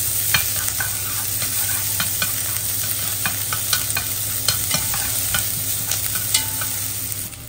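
Minced garlic and other ingredients stir-fried in a wok give a steady close sizzle, broken by frequent sharp scrapes and clacks of a spatula against the pan, with no talking.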